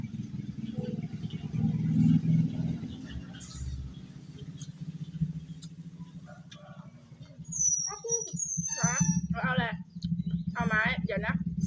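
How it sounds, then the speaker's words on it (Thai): Cars passing outside a house, a low continuous rumble of traffic that swells and fades, with voices nearby and some bird chirps toward the end. "กินอยู่หน้าบ้านแล้วจะเสียงรถรบกวนนิดจักน้อย"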